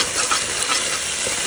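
Chopped onion hits a hot pot for a Guyanese seven curry, a loud, steady close-up sizzle of frying with hissing and bubbling throughout, no talk.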